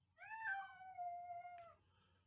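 A pet cat gives one drawn-out, wavering meow indoors, fairly close and clear against a faint low hum, with no talk over it.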